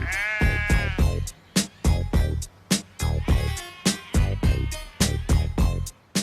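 Sheep, ewes and lambs, on common land bleat loudly and repeatedly at close range, a rapid series of wavering calls that overlap and follow one after another without pause.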